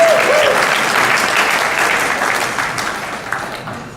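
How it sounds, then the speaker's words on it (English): A conference audience at Earth Keeper 2018 applauds with dense, sustained clapping that starts loud and slowly fades over a few seconds. "Let's have another round of applause for Randall and Graham."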